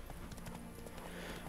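Horse hooves clip-clop in a steady galloping rhythm as a rider crosses open country in The Witcher 3, the beat continuous and fairly close over a constant game-world background hum.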